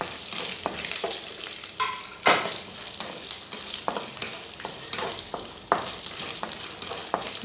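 Chilli, onion and garlic roasting in a pan for a ground paste, giving a continuous close sizzle with irregular scraping stirs and occasional louder pops, no voices.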